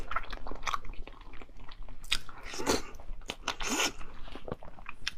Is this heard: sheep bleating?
no